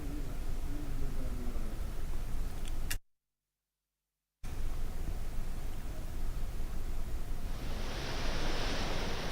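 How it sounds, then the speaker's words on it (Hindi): High sea waves surging and crashing at the Gateway of India in Mumbai during Cyclone Biparjoy, a loud continuous roar of surf with wind, broken by a brief silent gap before the rush of water resumes. "गेटवे ऑफ इंडिया पर समुद्र में ऊंची लहरें उठ रही हैं।"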